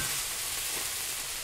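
Onions sizzle in melted butter in a hot pan, a loud, close, continuous hiss with no talk over it.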